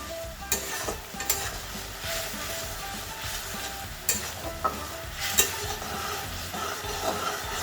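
Spice masala frying in a pan is stirred with sharp, irregular spatula scrapes and knocks over a constant close sizzle.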